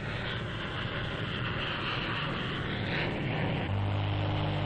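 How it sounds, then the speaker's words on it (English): Military aircraft roar along a busy air base runway at RAAF Butterworth during routine training, a steady, loud engine rumble and rush that swells slightly, with no voices over it. "It's a busy runway. During routine training, aircraft take off and land in an almost continuous stream."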